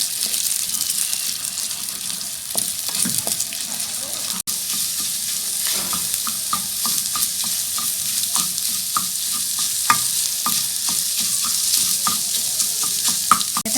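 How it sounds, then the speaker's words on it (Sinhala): Eggs frying in oil in a pan for chicken fried rice, with a steady hissing sizzle and intermittent scraping and clinks as they are stirred and broken into small pieces. "දැන් බිත්තර ටික මෙලෙස තෙල් දමා බැද ගන්න."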